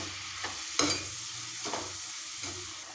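Pumpkin shoots stirred in a frying pan, with a soft steady sizzle throughout and a few scraping stirs of the spatula, one sharper clack near the start; no voices.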